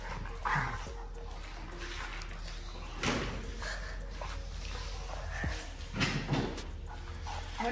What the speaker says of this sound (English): And the dogs are still playing.